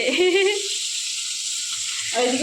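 Peeled food frying in a pan gives a steady sizzling hiss throughout, with a voice talking briefly near the start and again at the end.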